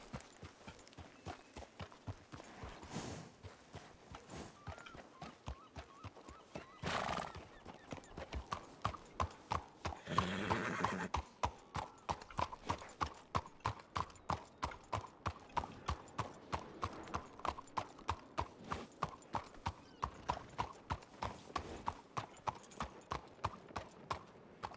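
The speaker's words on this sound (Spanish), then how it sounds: "Su caballo está aquí." Horse hooves clip-clop in the RedM video game, first at an uneven pace and then settling into a steady, close walking rhythm, with a few louder bursts of game noise.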